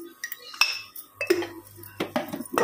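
Metal utensils clink and scrape in a cooking pot as salt is added to dal in a home kitchen, a series of sharp close taps and rattles spread over a few seconds with a faint low hum.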